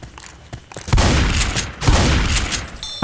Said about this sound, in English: shotgun to the head equals brains everywhere